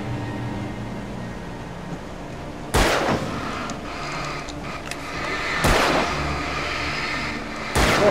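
Gunfire in the video game Alan Wake, three sharp, loud gunshots spaced a few seconds apart over a steady hiss of background noise.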